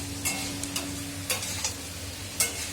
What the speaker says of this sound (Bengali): এই যে দেখুন পাস্তাটা হয়ে গেছে, বেশ নাড়াচাড়া করে একটু নামিয়ে নেব।